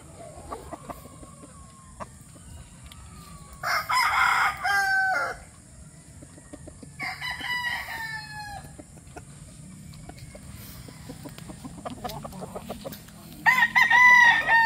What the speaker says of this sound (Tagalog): nasa harapan nyo na ang isang brood stag na Boston Black.